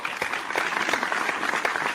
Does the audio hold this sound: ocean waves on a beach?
no